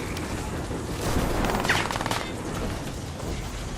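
Gunfire from a shooting sequence in the video game Crysis 3, rapid bursts of automatic shots layered over a rumbling game mix, moderately loud and continuous with no talk.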